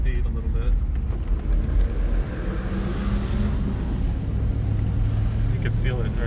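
Mercedes R129 roadster needing new tires, engine droning steadily while driving at speed, a loud continuous rumble with road and wind noise, people talking over it inside the car.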